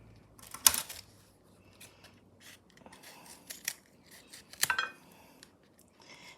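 A knife cuts into the tough outer seed shell of an Ivory mango, giving a few close, crisp snapping and scraping bursts among quieter rustling, with no talk.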